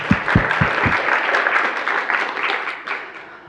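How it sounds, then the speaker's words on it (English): A small audience at a programming-languages conference applauds the organizers, with a few sharp claps up front followed by a steady wash of clapping that slowly fades, close and fairly loud. "please join me in giving a round of applause for Matthias and Steve"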